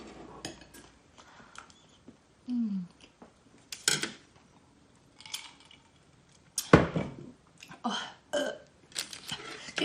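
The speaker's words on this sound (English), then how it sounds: "that was a weak burp." A short, weak burp during a meal of spicy Korean garlic fried chicken, heard close amid quiet chewing, clinking cutlery and scattered mouth noises.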